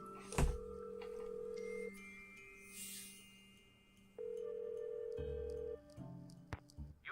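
A phone line in the Nancy Drew mystery game The White Wolf of Icicle Creek gives off steady electronic tones in separate held bursts with short gaps, thin and clear over a quiet background.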